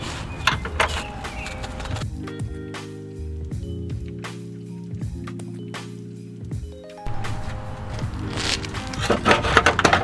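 A power steering rack on a VW MK4 GTI being slid out of the subframe, giving close scraping and rubbing metal sounds, with a quieter tonal hum in the middle and creaks and knocks at the start and end.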